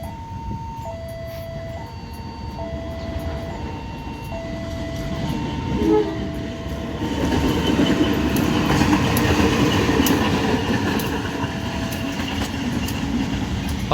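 A shunting locomotive rolls past on the line between Rowolo and Jogja, sounding a repeated two-tone horn in several short alternating blasts before its rumble and wheel noise swell up close and loud.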